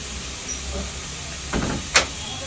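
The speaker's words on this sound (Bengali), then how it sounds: "আর এদিকে জানলাটা দিয়ে দিই" A kitchen window slides shut to keep birds out, a soft scraping glide followed by a short sharp knock as it closes, fairly quiet against a steady background hiss.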